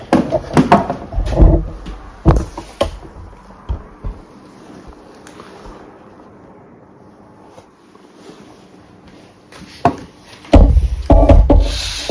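Wooden beehive frames pulled out of a hive box and shifted around in an apiary in February: scraping wooden rubs and knocks come in bursts near the start and end, with a quieter stretch between.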